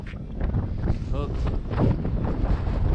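High wind blows around a truck in North Dakota, loud, gusty buffeting that rumbles against the microphone throughout, with some brief tonal sounds mixed in.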